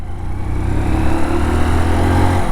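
A motorcycle engine runs up and revs, its pitch rising and falling as the rider shifts from first to second to third gear, loud and close.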